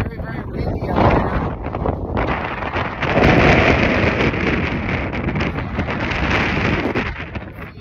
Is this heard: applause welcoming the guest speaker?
no